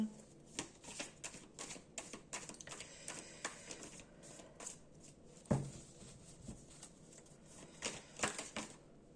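Tarot cards are shuffled and drawn in quick, papery clicking bursts, soft and close, with occasional louder snaps and faint speech in the background.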